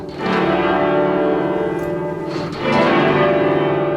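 Several church bells in Cambridge ring together in full, resonant chords, loud and sustained, with a fresh strike of the bells partway through.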